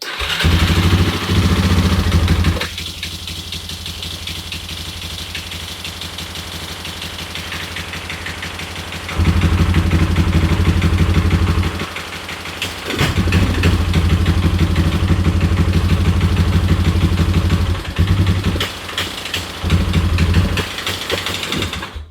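A quad ATV engine cranks and catches, then runs in a loud mid-pitched idle close to the microphone. It drops away and restarts several times, with clattering revs between quieter stretches.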